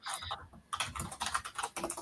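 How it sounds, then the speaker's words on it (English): Quick bursts of computer keyboard typing, faint and fairly close, with a brief pause early on before clustered keystrokes resume through the rest, picked up over a virtual meeting microphone. "And I can hear typing."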